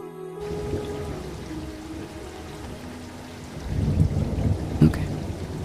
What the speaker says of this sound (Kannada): ಬೇಕು ಅಂದರೆ 1 ಸೆಕೆಂಡ್ ಮಳೆ ಬರೆಸ್ತೀನಿ